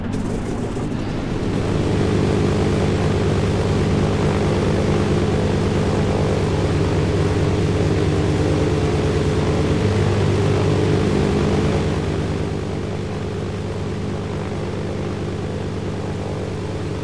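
A biplane's engine and spinning propeller in a video game, a loud, steady droning buzz held close for the whole stretch, with a slight shift in pitch partway through and no voices.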